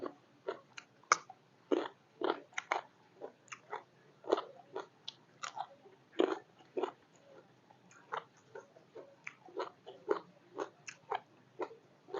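Crunchy Thai Isan spicy mixed salad with pork offal and pickled squid is chewed close up, with steady repeated crisp bites and crunches in an irregular rhythm, and no voices.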